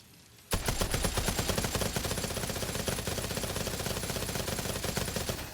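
A minigun fires in a video game, starting abruptly after a short quiet moment and continuing as a dense, rapid, evenly spaced roar of shots that keeps going at a steady loud level.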